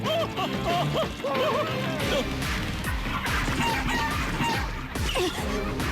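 Chickens cluck and squawk excitedly amid loud crashes and thuds in a cartoon, a busy, chaotic scuffle close by.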